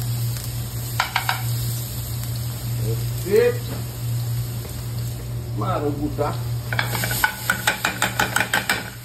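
Garlic sizzles in hot oil for a tarka, a soft crackling fry with bursts of stirring and clinks of a spoon, while a person talks over it.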